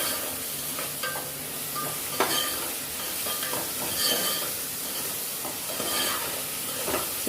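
Onions and tomatoes sauté in a pan for a Tirunelveli-style chicken curry, with a continuous soft sizzle broken by the scrape and clack of a stirring spoon, close and moderately quiet.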